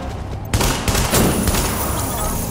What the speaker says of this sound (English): shotgun is ridiculously nasty